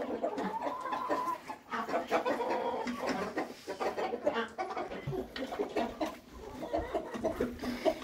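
A flock of laying hens clucks steadily and close, with overlapping chatter and busy farmyard noise throughout.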